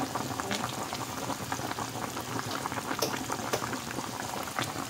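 A pot of dumplings, pumpkin and potato boils vigorously, a continuous bubbling and popping at close range with no speech.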